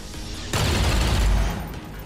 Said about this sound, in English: Take a regular shot.